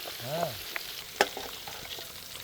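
Eggs fry in hot oil with a steady crackling sizzle, plus sharp pops and a spatter burst partway through. No voices are heard.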